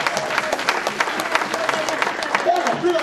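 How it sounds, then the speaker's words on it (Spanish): Congregation clapping in a church service, a steady dense patter of many hands sustained throughout, with a voice speaking faintly over it near the end. "Un aplauso para el Espíritu"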